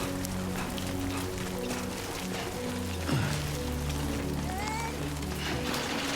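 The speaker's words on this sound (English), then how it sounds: "Oh! Great. Rain." Rain falls in the video game Death Stranding 2 as a steady, even hiss layered under sustained game music, with a brief voice exclamation midway.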